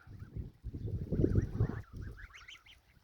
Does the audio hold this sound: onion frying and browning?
no